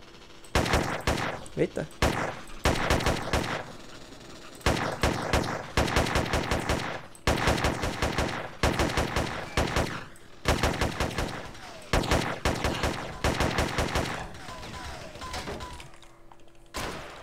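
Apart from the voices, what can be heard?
gunfire from enemy snipers in the video game Rust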